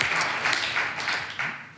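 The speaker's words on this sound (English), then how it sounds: "So we appreciate the outpouring of support and clapping." An audience at a Mesa city council meeting applauds in a dense, hissy burst of clapping that carries on briefly and gradually thins out.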